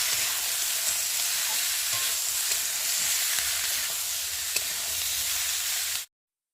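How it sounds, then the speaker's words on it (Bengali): Small fish sautéing with ginger and cumin paste for a green tomato chachuri sizzle loudly and steadily in hot oil, a continuous close frying hiss that stops abruptly at the end. "আদা বাটা, জিরে বাটা দিয়ে ভালো করে কষিয়ে নেব।"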